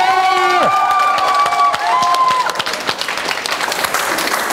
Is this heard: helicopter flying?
no